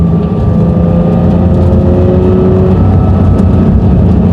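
A Porsche 992 911 S/T engine drones steadily at a loud, constant pitch, like cruising from inside the cabin, with a low rumble underneath.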